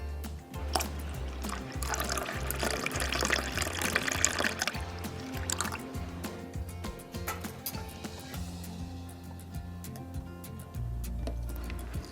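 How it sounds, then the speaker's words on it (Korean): Milk pours steadily into a pot of wasabi mixture for a Korean hanwoo beef dish, a continuous soft liquid stream with gentle splashing and occasional clinks, fairly close and unbroken. "그리고 우유도 쭉 넣어줍니다"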